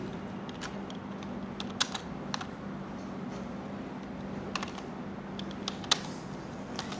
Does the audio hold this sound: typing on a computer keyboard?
yes